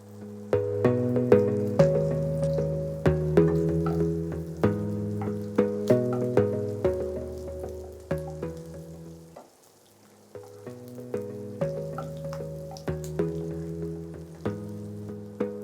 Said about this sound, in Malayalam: നമുക്ക് പച്ചമുളകും പൈച്ചില്ലിയും കറിവേപ്പിലയും കൂടി ആഡ് ചെയ്യാം